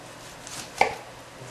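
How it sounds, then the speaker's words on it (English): A knife cuts between the cartilage of a turkey wing joint while the bird is being deboned, giving a single short, close crunch against a quiet background. "I'll run my knife right between the two pieces of cartilage of the wing joint"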